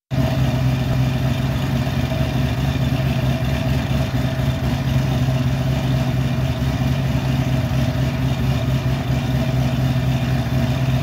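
A 2007 Ford GT500 with a TR6060 gearbox idles close up, its engine running in a loud, steady, even burble from start to finish without any voices.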